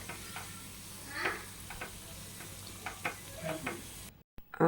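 Puris frying in hot oil, a soft continuous sizzle with faint bubbling and a few light clicks of a utensil, quiet throughout, cutting off briefly near the end.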